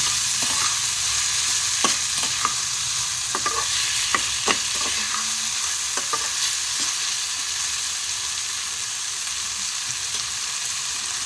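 Grated ginger and garlic with salt frying steadily in a hot pan, a continuous close sizzle broken by sharp scrapes and clicks of a spoon stirring, no voices.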